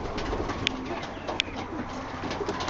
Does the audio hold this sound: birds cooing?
yes